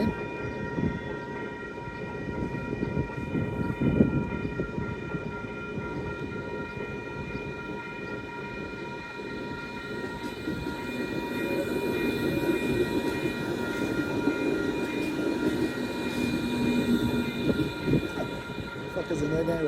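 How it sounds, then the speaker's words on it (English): A slow-moving train rolls past near the Iron Horse Trail with a steady rumble and a faint tonal whine. The clatter of the wheels swells toward the end, and a voice speaks briefly under it. "there goes the train there"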